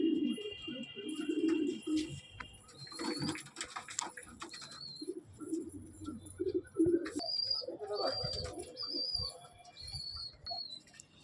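Loft pigeons, a breeding pair among them, coo in repeated low throaty phrases close up, with scattered chirps, whistles and bursts of rustling around them.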